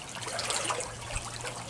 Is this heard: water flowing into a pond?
yes